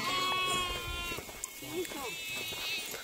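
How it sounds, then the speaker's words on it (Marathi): Sheep bleating along a rural walking route in the Narmada region, where a flock of about 300 passes by; a few wavering bleats rise over steady outdoor background noise, moderately close. "ओ क्या है मेंढी है ना."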